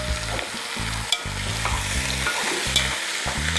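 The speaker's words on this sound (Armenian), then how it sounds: "մսետ մի փոքր տապակում ենք" Meat fries in a pan with a continuous sizzle, joined by rhythmic stirring and a couple of light utensil clicks, steady and close, with nobody talking.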